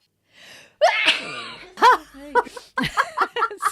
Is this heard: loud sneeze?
yes